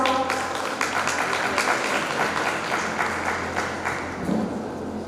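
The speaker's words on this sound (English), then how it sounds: "Please give a huge round of applause." A crowd at a school graduation day claps continuously for about five seconds, a dense, steady round of applause with no voices standing out.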